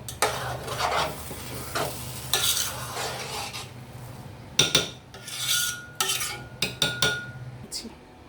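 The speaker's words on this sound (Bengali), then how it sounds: "দিয়ে এটাকে আমি ভালোভাবে নেড়ে দমে বসিয়ে দেব" Chicken biryani with lemon juice being stirred in a pot, a spoon scraping and rustling through the rice in uneven bursts over a low hum, close and fairly loud, with no voices.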